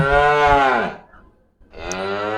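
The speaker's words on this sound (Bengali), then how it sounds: "অনেক প্রজাতির গরু আছে" A cow lets out a long, deep moo at a livestock fair in Mirpur, pauses briefly in near silence, then moos again, loud and close.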